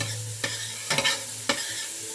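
Onions sautéing in a pot for chili con carne give a steady close sizzle, with a few sharp stirring scrapes breaking through, two of them close together near the middle.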